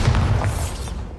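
A single deep booming blast from the Bombarda explosion spell in Hogwarts Legacy, loud and low with a short rumbling decay.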